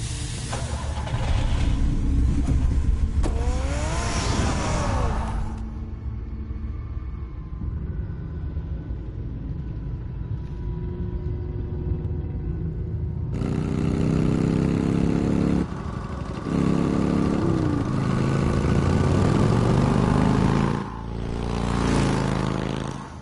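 Car engine in Batman: The Telltale Series rumbles and idles at a low pitch beneath a game soundtrack. The engine and music run loud at the start, drop quieter in the middle, then swell again, with a tonal rise near the end.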